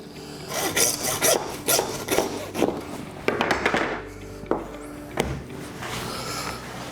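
A butcher cuts the hock off a pork leg joint, giving close, repeated rasping strokes of a saw or knife through meat and bone with a few sharp knocks in between.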